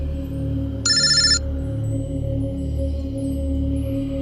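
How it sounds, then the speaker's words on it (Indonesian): A mobile phone rings briefly with a bright electronic ringtone burst lasting about half a second, over a steady low hum in a quiet setting. "Kenapa handphone Akbar meneleponku?"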